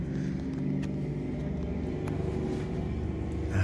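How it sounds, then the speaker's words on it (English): Trucks idling outside a room where a Hoover WindTunnel 2 Whole House Rewind upright vacuum is being checked, a steady low engine rumble that holds at an even level throughout and swells slightly at the end. "Stupid trucks outside gotta be making noise."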